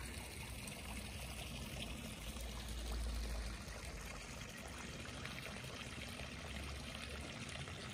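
Water runs steadily from an old stone village fountain beside a church in a Swiss village, a constant near splashing trickle that holds at the same level throughout with no voices.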